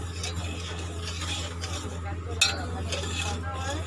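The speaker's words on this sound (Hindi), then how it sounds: "बीच बीच में हम शक्कर को अच्छे से इस तरीके से चम्मच से चलाते रहेंगे।" A spoon stirring sugar and water in a pot on the stove while syrup is being made, giving soft scraping and light clinks over a steady low hum, fairly quiet throughout.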